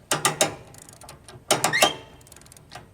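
A ratchet strap is cranked tight on a car tow dolly, producing two loud close clusters of sharp ratcheting clicks about a second apart, then a fainter trailing click, with no talking.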